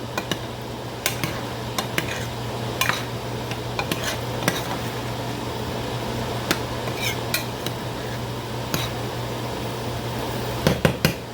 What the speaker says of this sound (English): Stir this up real good.